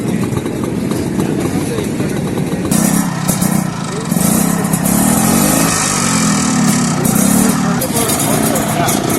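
Vintage Jawa and Yezdi motorcycles, including a restored 1956 bike, rumble and rev loudly at a Jawa-Yezdi day rider gathering, engines idling then throttling up in a dense, continuous drone.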